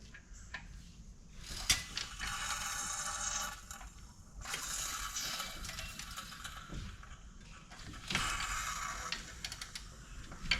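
A ratchet cranks a stuck engine over in a 2009 Jeep Liberty, with rhythmic clicking pawl bursts and grinding mechanical turning in repeated long strokes at close range.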